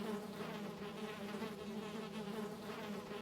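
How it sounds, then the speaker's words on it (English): Bees buzz continuously in the video game Valheim, a dense, steady droning hum with no talk over it. "We just need to get rid of this bee problem."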